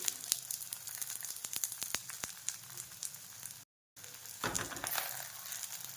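Leftover chapati used as a pizza base fries in ghee in a pan with a steady crackling sizzle and scattered sharp pops, broken by a brief silent gap before the sizzling resumes louder.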